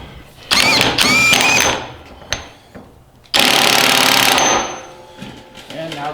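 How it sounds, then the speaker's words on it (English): A power tool drives a RockJock CurrectLync Extreme steering joint back in the opposite direction, running in two loud bursts of whirring and rattling, the second longer, with quieter gaps and clicks between. "we'll screw it back in the other direction"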